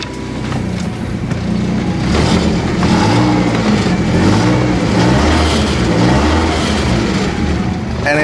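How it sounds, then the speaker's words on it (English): A BMW E30 engine, restored after sitting unused for 16 years, idles steadily and smoothly, a continuous low, even rumble that holds close and fairly loud throughout with no talking over it. "And it just is idling really, really well."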